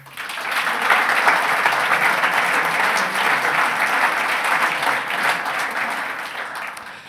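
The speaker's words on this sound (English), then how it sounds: "please also get a warm applause for my two co-hosts" A crowd at an award ceremony gives warm applause for two co-hosts, a loud, sustained, even wash of many hands clapping that holds steady for several seconds before easing slightly.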